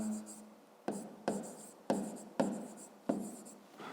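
A pen writes numbers by hand while working through a fifth-grade maths exercise, making about five crisp, close scratching strokes in an even rhythm with short pauses between them.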